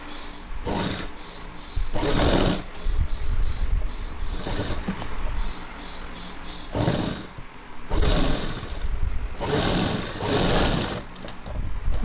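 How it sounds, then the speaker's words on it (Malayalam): A sewing machine runs a half-inch seam on a school uniform pinafore, its motor whirring in repeated bursts of stitching with short slower pauses between runs, close and steady with no talking. "ഇങ്ങനെ വെച്ചിട്ട് ഒരു 1/2 ഇഞ്ചിൽ തയ്ക്കുക."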